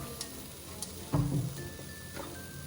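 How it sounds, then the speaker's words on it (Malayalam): A spoon stirring hot and sour chicken soup ingredients in a pan, faint scraping and sizzle with one brief louder clank midway, close and quiet, with no talk. "ഇതെല്ലാം നമുക്കൊന്ന് ഇളക്കി യോജിപ്പിക്കാം."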